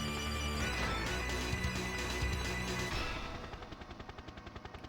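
Rapid automatic fire from dual-wielded Spectre submachine guns in GoldenEye 007 rattles out as dense, continuous bursts, then settles into a steady, evenly spaced staccato of individual shots toward the end.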